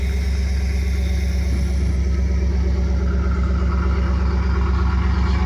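A 1992 Pontiac Firebird engine, smoking slightly, idles steadily up close with a constant loud low rumble and even pulsing firing rhythm, running alone without voices.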